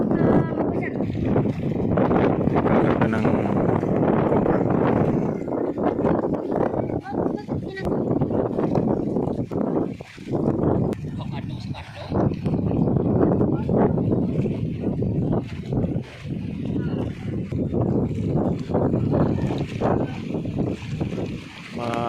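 Constant strong wind roars and buffets across rough open water on a sea crossing to Guiuan, with a boat's engine rumble, steady and loud throughout with no clear speech.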